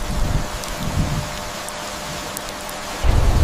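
Rain and thunder on the African savanna: steady rainfall hiss with low rumbling surges, a deep roll building at the end, wind and rustling mixed in, no voices.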